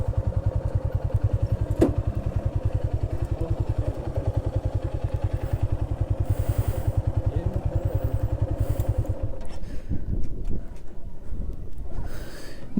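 A Honda CB150F motorcycle engine runs close by with a steady rapid thumping idle pulse for about nine seconds, then cuts off and leaves a few clunks and faint background noise.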